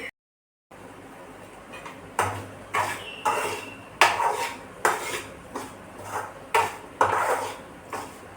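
Metal pans clink and scrape repeatedly as semolina is roasted and syrup cooks on the stove for rava laddu, irregular stirring knocks close by with no talk.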